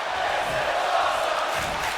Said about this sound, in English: the crowd absolutely loving what they're seeing